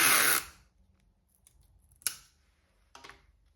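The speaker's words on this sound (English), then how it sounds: "I need to seal the envelope with tape." Sticky tape is pulled and pressed onto a paper evidence envelope to seal it, heard as a loud opening rip followed by two sharper tearing or snapping bursts against a quiet room.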